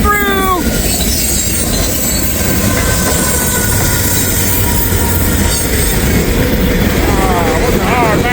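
A freight train with a distributed-power (DPU) locomotive rolls past in fog, a loud steady roar of wheels and cars with squealing and clacking throughout, and a voice calls out once over the noise.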